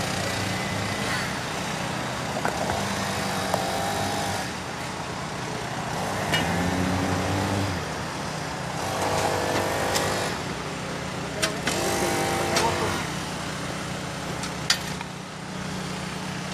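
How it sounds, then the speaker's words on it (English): Engine-driven blower running steadily at a cement pour, a continuous loud mechanical drone with brief clanks and surges, voices talking over it at times. "Have a little issue with that blower"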